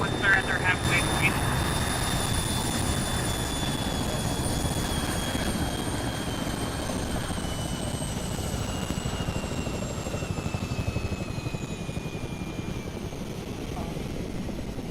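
A helicopter in the Arma 3 video game spools down inside a military deployment, its rotor thrum steady and loud while a high engine whine slowly falls in pitch throughout.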